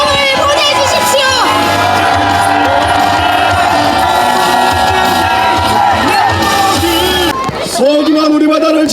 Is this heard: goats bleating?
no